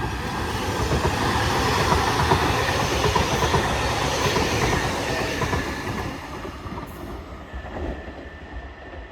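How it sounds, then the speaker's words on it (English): A Class 331 train pulls away from platform 1 at Earlestown station, bound for Manchester Piccadilly. Loud, continuous rumble and wheel clatter roll on close by throughout, easing slightly toward the end, with no voices. "train now departing on platform 1 is a"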